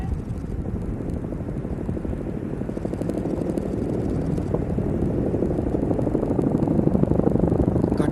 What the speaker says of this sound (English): 2 heavy lift tandem rotor Chinook helicopters, call sign Hanuman, carrying 2 M777 guns of the Indian Army as underslung load